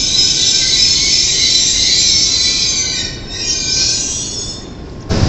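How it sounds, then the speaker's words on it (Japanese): Shinkansen N700S Nozomi bullet train at the Shin-Osaka station platform, its wheels giving a loud, sustained high squeal over a rolling rail rumble that eases slightly before a sharp noise at the very end. "ただいま13番線に到着の電車、こちらは京都を14時52分に出発しますのぞみ353号新大阪駅です"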